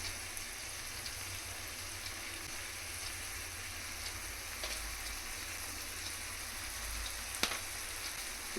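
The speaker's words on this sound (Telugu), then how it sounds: "ఒక 5 minutes మనం హైలో పెట్టుకొని ఫ్రై చేసుకోవాలి" Onions and vegetables for Thalassery chicken biryani fry on high heat with a soft, continuous sizzle and fine crackle, close by, with an occasional faint clink near the end.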